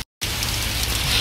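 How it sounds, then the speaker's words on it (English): Heavy rain pours down during a hurricane, a loud, unbroken hiss that starts abruptly after a brief moment of silence and continues without talk. "I came back because it was raining so hard"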